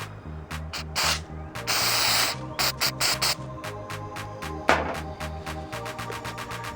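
Aerosol parts cleaner sprayed onto a BMW engine part in a series of short hissing bursts and one longer blast, close and fairly loud, over a steady rhythmic background.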